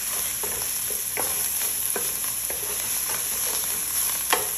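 Fish soup being stirred in a pan with coriander leaves, a spoon scraping and clinking in irregular strokes over a steady frying sizzle, close and moderately loud.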